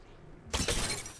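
An enemy's armor shield shattering in Apex Legends: a single sharp, bright, glassy break that bursts out after a quiet moment and rings briefly before fading.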